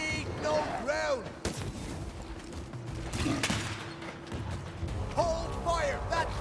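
Gunfire during a spectre attack on a fort in the video game Banishers: Ghosts of New Eden: sharp shots and booming blasts ring out amid battle noise, with shouting voices in between.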